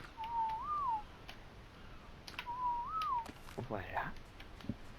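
In the video game ARK, a whistle command plays as two short rising-and-falling whistled notes about two seconds apart, followed by a brief fluttering call, with faint game ambience.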